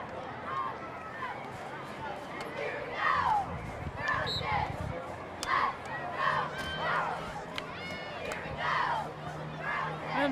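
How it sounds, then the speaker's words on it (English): Cheerleaders chant and cheer at a high school football game, an enthusiastic crowd noise with rising shouted calls, steady and moderately loud throughout, mixed with background babble from the stands. "And the cheerleaders are continuing to cheer on the"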